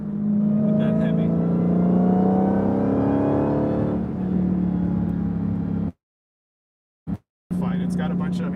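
A Dodge Challenger SRT Demon engine with a high supercharger-style whine over a deep bass roar revs loudly for about six seconds, drops to silence, then returns in a short burst and a final revving roar.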